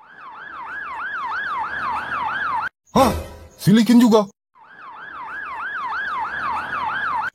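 Ambulance siren wailing in a rising-falling cycle, loud and close, cut off briefly while two people exchange short words, then resuming at the same steady volume.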